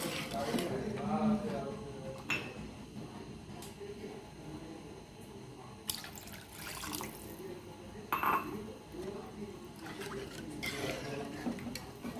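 Water is poured into a pot while making Kerala-style rasam: a steady running, splashing stream lasting about twelve seconds, moderately loud and close, with brief louder splashes and a faint voice in the background.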